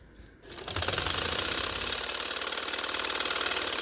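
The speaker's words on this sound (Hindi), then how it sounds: "ये मैंने जब बॉर्डर लगाया इसके ऊपर भी मैं सिलाई दे रही हूँ" A sewing machine stitches over a border sewn onto trousers, starting after a brief quiet moment and then running in a fast, even mechanical rattle, close and steady, with no speech.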